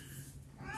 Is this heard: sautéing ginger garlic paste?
no